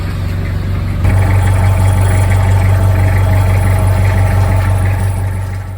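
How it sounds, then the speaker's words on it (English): A Toyota Hiace van idling close by with a loose broken piece rattling inside the muffler, a loud steady low rumble with a continuous buzzing rattle over it. "there's still a piece inside the muffler rattling around. Some awful rattle sound"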